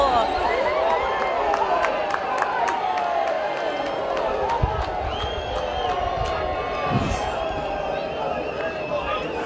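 Rugby league crowd at a preliminary final roaring and whooping in reaction to a forward pass, with a big sustained stadium swell, scattered cheers and claps, and a commentator's voice talking over it.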